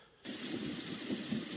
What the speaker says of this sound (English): There is the other setting with rain and thunder.